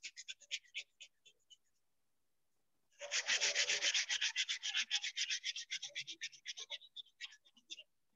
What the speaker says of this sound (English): when I'm sanding, I'm purposely trying to go off of the piece on either side